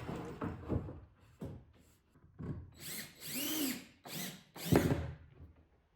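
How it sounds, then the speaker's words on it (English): A power drill drives drywall screws into wood, several short bursts of whirring with ratcheting pauses between them, close and loud, with no talk over it. "I'm trying to be careful with the drill not to snap the heads off these drywall screws."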